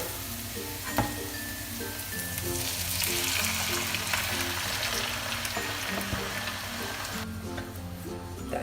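Onion and tomatoes sizzle and fry in a pan while being stirred for shakshuka, a steady close crackle with occasional scraping clicks and no talking.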